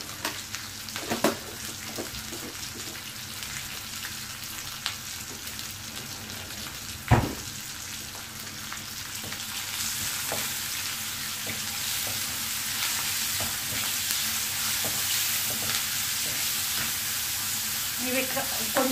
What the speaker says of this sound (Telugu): కొంచెం కలర్ వచ్చిందాక వేయించుకుందాం